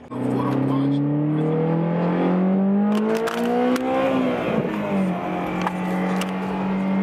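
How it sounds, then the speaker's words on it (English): Honda S2000 engine revving hard into VTEC, a loud close rising engine note that climbs steadily, drops at a shift and then pulls again, heard from inside the car while someone talks. "Too much VTEC."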